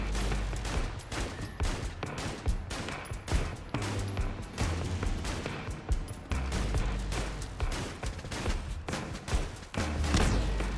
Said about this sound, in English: I was intentionally firing fairly slowly.